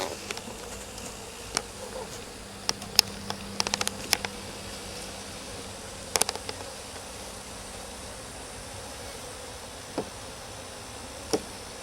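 Honeybees buzzing around a hive during a top bar conversion, with a dense steady hum of many insects close by, broken by occasional clicks and knocks of hive parts.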